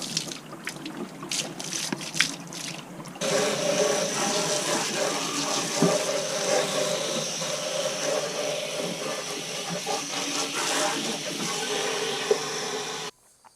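Water from a garden hose sprays hard onto a dirty Hayward pool cartridge filter, starting with spattering bursts and then settling into a steady loud hissing rinse before cutting off abruptly.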